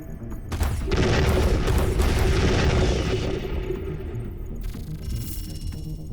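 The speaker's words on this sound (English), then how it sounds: "that's the orbital bombardment" Orbital bombardment explosions pound a planet's surface in Endless Space 2, a deep, heavy rumbling boom that swells and rolls for several seconds before fading into a lower roar with a faint high tone.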